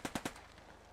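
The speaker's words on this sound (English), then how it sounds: "the Brens and the Stens wiping out the rest of the squad that survived" Bren and Sten guns in the WWII game Post Scriptum fire a quick burst of three sharp, distant shots followed by a fading echo.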